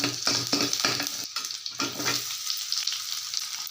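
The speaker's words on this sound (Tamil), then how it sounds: "இப்போ வெங்காயத்தை இதில் போட்டுக்கலாம்" Onions frying in a pan for paneer butter masala, a close, crackling sizzle with several stirring scrapes early on, easing to a quieter hiss.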